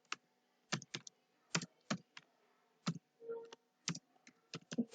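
HTML code is typed on a computer keyboard in sparse, crisp keystrokes, single taps and quick pairs close by in a quiet room with silence between them.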